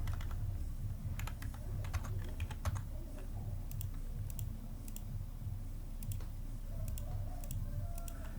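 Steady, rapid typing on a computer keyboard while data is being entered, with dense clicking keystrokes that come in quick bursts and carry on alone at a close, moderate level throughout.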